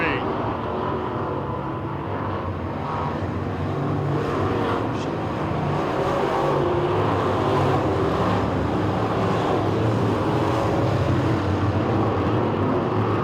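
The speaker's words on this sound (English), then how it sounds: "He's in that second position as they rocket down the back straightaway going into turn number 3" Late model sportsman race cars roar down the back straightaway toward turn three at a short track, a loud continuous engine drone that stays steady throughout, with a commentator talking over it.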